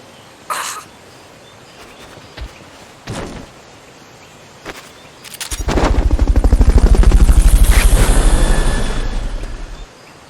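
In the video game Metal Gear Solid: Peace Walker, a few sharp bangs ring out, then a helicopter rises in with fast rhythmic rotor thumping, loud and close, before cutting off.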